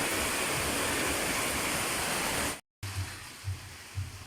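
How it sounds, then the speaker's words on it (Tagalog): Heavy rain pours steadily outdoors at a farm beside a flooded, rushing stream, a dense continuous roar that breaks off abruptly, then resumes more softly with low rhythmic thumps. "napakalakas pa rin po ng ulan sa labas mga langga"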